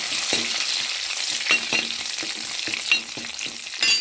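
Green chilies go into a pan of frying snakehead fish curry, with steady hot-oil sizzling and a series of scrapes and stirring clatters from a spoon, close and alone.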